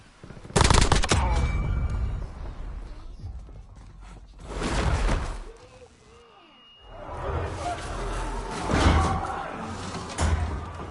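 Gunfire from shotguns in Call of Duty Warzone (Black Ops 6 battle royale), several loud close blasts and bursts separated by quieter gaps, with a voice talking between the shots.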